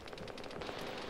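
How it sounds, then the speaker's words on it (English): Sustained automatic gunfire from the north in the military video game Arma, a dense, continuous rattle of rapid shots at moderate distance with no pause through the burst. "One's taking fire from the north, on the north side of the road."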